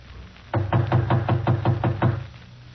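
Roughly eight steady, evenly spaced knocks land on an apartment door after a brief pause, firm and close with no voices over them.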